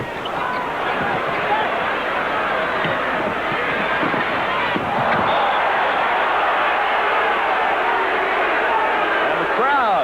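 A Houston basketball arena crowd at a 1983 76ers versus Rockets game keeps up a loud, continuous roar with rising cheers, a surge midway through, and a commentator talking over it.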